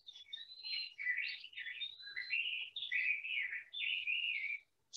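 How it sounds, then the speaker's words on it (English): Songbirds chirp and sing in spring, several overlapping warbling, tweeting phrases running almost continuously and fairly close, with a brief pause near the end and no voices. "Spring is when you're going to hear the most abundant bird sounds."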